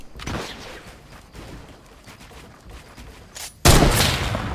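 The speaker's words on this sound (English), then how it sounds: "Oh my gosh, grenade launcher." Grenade launcher fire and explosions in the video game Fortnite, several booming blasts through the clip with one loud close explosion near the end.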